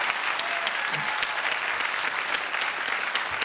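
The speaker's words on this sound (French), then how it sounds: "on peut peut-être applaudir Adrien Marchais." An audience applauds steadily for a few seconds: an even, close wash of many hands clapping with no talk over it.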